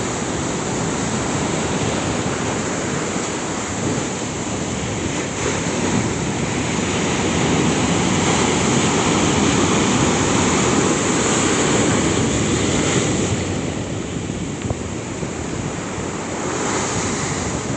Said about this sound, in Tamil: பாருங்கள் இவ்வளோ மோசமான அலைகள் வந்து கொண்டிருக்குன்னா மிக வேகமாக